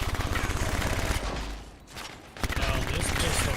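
Rapid gunfire from a pistol in the sci-fi action game Anthem, dense bursts of shots with a brief lull in the middle before firing resumes loudly, mixed with game sound effects.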